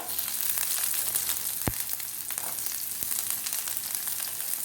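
Chana dal and urad dal fry in hot oil with a small onion for masala dosa filling, giving a bright, continuous close sizzle with a few sharp crackles and pops.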